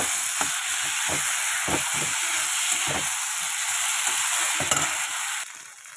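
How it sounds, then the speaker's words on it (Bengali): Cumin, ginger, dried red chili and a little onion fry in a pan with a constant close hiss and sizzle. Repeated soft stirring knocks run under it, and the sound drops away near the end. "এবার এটাকে ভালো মতো কষাবো বেশ টাইম ধরে।"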